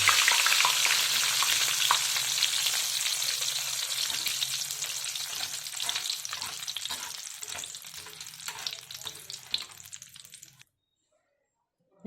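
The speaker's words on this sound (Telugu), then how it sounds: "ఇప్పుడు కరివేపాకు కూడా వేసేసుకుందాము." Curry leaves hit hot oil for a roasted poha chivda, setting off a loud, dense sizzle with crackles and stirring scrapes that fades gradually before stopping abruptly.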